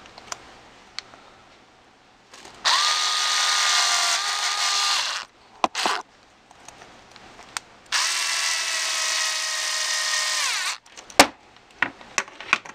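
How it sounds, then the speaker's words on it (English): A power drill drives a screw into the steering block of a Traxxas Stampede RC truck during a rebuild, two sustained whirring bursts of a few seconds each with short clicks and handling noises between, close and loud. "take screw I got and drill it into the steering block"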